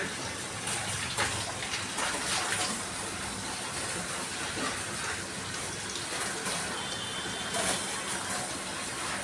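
Water runs from an open bathroom tap in a steady, unbroken gush that fills the whole stretch at an even level, with no voices over it.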